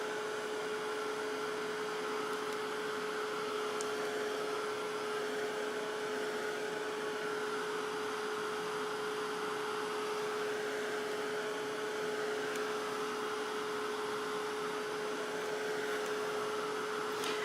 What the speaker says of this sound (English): you can use a heat gun or heat tool